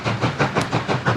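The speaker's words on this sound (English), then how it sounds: "So there we go, I'll move the train along." A train in Transport Fever 2 rolls along with a steady rhythmic clickety-clack, loud and close, with no other sounds.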